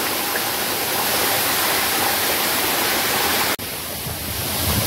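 Heard from up close, the Navlai waterfall crashes over moss-covered rocks in a loud, continuous roar, broken by one abrupt dropout before the rushing resumes and builds again.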